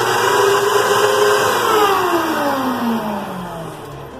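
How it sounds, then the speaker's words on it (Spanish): A vacuum cleaner's nozzle sucks standing water from the bottom of a dishwasher, giving a loud, close, continuous motor whine whose pitch slowly sags as it works. "Voy a darle con mi aspiradora, a ver si entra aquí."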